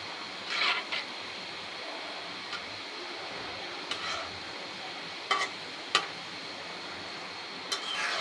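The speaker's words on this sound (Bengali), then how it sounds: "ভাজতে বেশি তেল লাগে না, অল্প তেলে ভাজা হয়ে যায়।" Shallow frying in a little oil, pieces turned until light brown, crisp outside and soft inside; a steady, quiet sizzle with a few sharp clicks and taps of a utensil at intervals.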